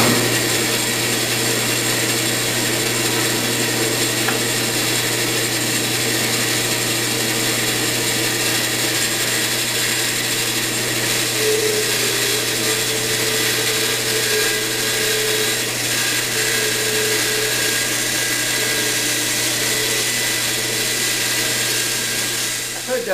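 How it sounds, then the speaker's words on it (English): A dust collector runs in a woodworking shop with a steady, unbroken roar and low hum, constant and close throughout the whole stretch, with no audible talking. "Turn on dust collector."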